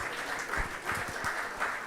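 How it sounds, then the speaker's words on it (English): A conference audience claps for the session's speakers and chairs, a short, moderate burst of applause with a few louder individual claps standing out. "Let's give a round of applause for all the speakers and for our chairs."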